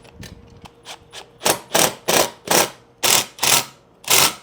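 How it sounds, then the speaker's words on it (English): A power drill tightening bolts on a side ladder of a Mercedes Sprinter van whirs in a series of short bursts, quieter at first, then about half a dozen loud, evenly spaced runs, close by. "Now I'm going to work my way through with the drill,"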